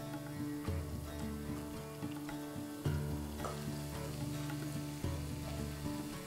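Chopped ginger frying in hot oil for a carrot, cauliflower and turnip pickle, a faint, steady sizzle under a low humming background with soft stirring scrapes and no talk.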